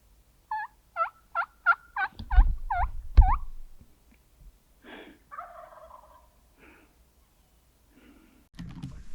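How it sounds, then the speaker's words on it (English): A Merriam's wild turkey gobbles loudly and close, several rapid gobble notes in quick succession, followed by scattered softer calls, faint rustling and a low rumble. "This turkey is gobbling great on his own."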